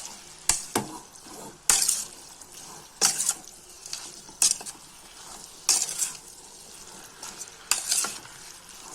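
Chicken for a Tulu-style munchi fry cooking in a pan, a steady sizzle broken by about eight sharp scraping stirs spaced roughly a second apart, close and fairly loud with no talking.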